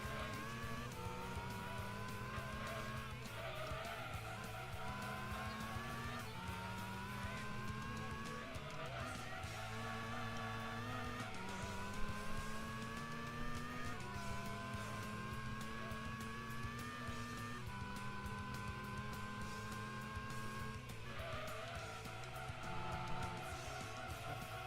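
A race car in Gran Turismo 2 revs hard through repeated gear changes, each climb in engine pitch cut by a shift, with tire squeal mixed in, sustained and loud throughout.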